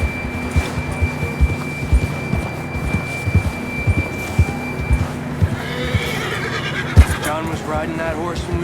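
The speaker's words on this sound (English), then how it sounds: "John was riding that horse when we left Blackwater." Horse neighing and whinnying in Red Dead Redemption 2, set in snow after leaving Blackwater, with clip-clop hooves and a low hum under it. A loud whinny comes in the second half, near and clear.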